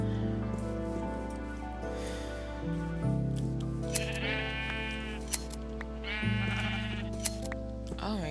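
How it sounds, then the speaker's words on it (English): Sheep in the Minecraft video game bleat in a few short, wavering cries while being sheared, over steady background music. "I'm just shearing all of these sheep."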